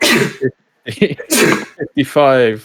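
A single sharp human sneeze bursts out between stretches of a man counting aloud, close and loud against the surrounding talk.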